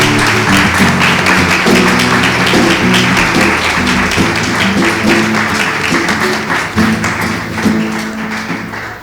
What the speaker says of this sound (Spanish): Vamos a darle un aplauso al Eterno.